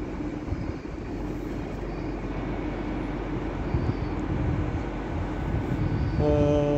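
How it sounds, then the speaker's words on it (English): A Metrolink tram on the Rochdale via Oldham service pulls into Manchester Victoria, a steady loud rolling rumble that builds slightly, with a brief tonal squeal or chime near the end. "just coming in behind everything there is another Metrolink tram to Rochdale via Oldham"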